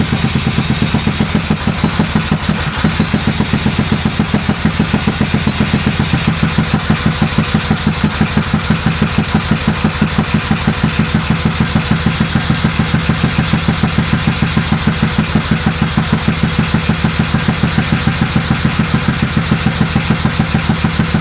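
A 2003 Kawasaki Vulcan 1600 motorcycle engine, run without its radiator or coolant hooked up, idling loud and close with a fast, steady, even mechanical pulse that holds unchanged throughout, with no talking.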